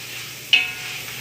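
Pieces of beef sear in a hot pot with a steady, moderately loud sizzle, broken by one brief metallic scrape of a stirring utensil partway through; no talking.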